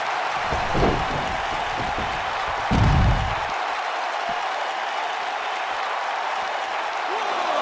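A wrestling arena crowd roars through a grueling championship match on WWE SmackDown, loud sustained cheering with two sharp swells of noise near the start, all under the din of the packed arena.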